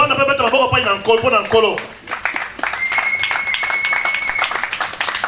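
A church congregation applauding the Lord: a voice speaks first, then dense, sustained clapping from a crowd continues through the rest, loud and close, with a faint steady tone underneath.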